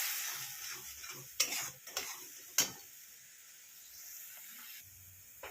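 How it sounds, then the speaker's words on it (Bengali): Onions frying in a pan over high heat, a soft sizzle with several sharp scraping clacks from stirring early on, then a quieter steady fry alone. "এবার পেঁয়াজটাকে একদম ভালো করে কষিয়ে নেব।"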